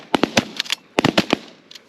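Shotguns fire at geese during a goose hunt in Canada, a rapid volley of sharp, loud blasts in two quick clusters followed by one fainter shot.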